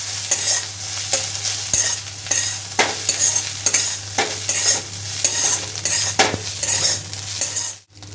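Rice being stirred and tossed into cooking dal in a pan, with green chillies added, for a Jain panchratna dal and jeera rice dish: steady scraping and clinking of the spoon against the pan over a continuous sizzle, close and fairly loud.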